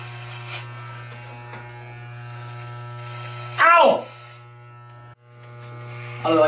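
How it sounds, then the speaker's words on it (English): An electric shaver buzzes steadily close up while someone shaves, with a brief change in pitch as it presses against the face, and people talk over the hum. "When you shave, you kind of remind me of Junior Soprano."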